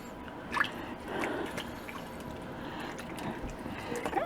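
Broth drips from a slow-cooked Mississippi roast beef as it is lifted out of the pot, making faint wet drips and soft splashes in a quiet kitchen.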